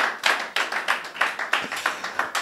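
A boy claps his hands in a run of about ten sharp, fairly regular claps, close and moderately loud, with no talk over them.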